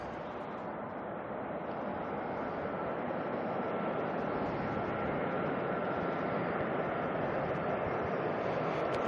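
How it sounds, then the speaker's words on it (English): A Jetstar Airbus A320 coming in from Wellington at Auckland Airport makes a loud, steady, broadband jet roar that holds level without a break. "Funny enough, we also have a Jetstar coming on in from Wellington,"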